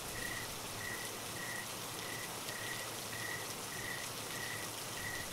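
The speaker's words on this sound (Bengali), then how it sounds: "বৃষ্টিটা বেশ স্তব্ধ হয়ে এলো ধীরে ধীরে" Steady rain falls in a dense, even hiss for a night scene, with a faint chirp repeating at regular intervals over it.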